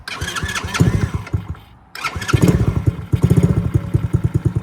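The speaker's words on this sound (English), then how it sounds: "See, that's a cold start." Coolster 3050C 110cc ATV, a 2025 model, cold-started: a close, loud starter crank, a brief lull, then the engine catches and runs with a steady, rhythmic chugging idle. No one speaks.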